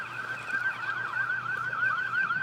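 An ambulance siren wails in a steady rising-and-falling cycle as it passes on the street, moderately distant and fairly quiet, with low traffic rumble beneath and no talking.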